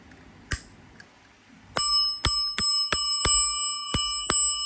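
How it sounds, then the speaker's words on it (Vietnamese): Japanese high-end brass bicycle bell struck repeatedly, giving about eight bright, ringing dings at a steady rhythm, close and loud, each tone sustaining into the next after a couple of softer taps. "chiếc chuông Nhật cao cấp bằng đồng"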